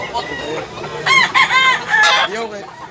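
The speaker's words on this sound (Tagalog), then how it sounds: "Manok na boss." Several roosters at a chicken farm crow in overlapping calls close by, with one prominent cock-a-doodle-doo rising over the others and clucking hens beneath.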